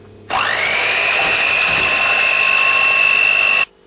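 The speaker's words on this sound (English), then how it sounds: "So we're just going to get the electric whisk out on this bad boy and make the most out of this evaporated milk." An electric whisk beats evaporated milk, whirring up quickly to a loud, steady high-pitched whine close by for about three seconds before stopping abruptly.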